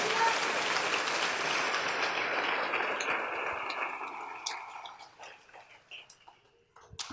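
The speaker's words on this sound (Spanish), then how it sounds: "Dale ese aplauso al Rey en esta hermosa mañana." A church congregation claps in a sustained round of applause that gradually fades out, leaving scattered claps and quiet room sounds at the end.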